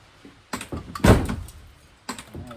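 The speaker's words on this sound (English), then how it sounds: "Let me try the door." Car door on a 1961 Rambler wagon under repair being worked open and shut, with several close, loud thunks and a heavy slam-like impact midway, followed by more latch clunks near the end.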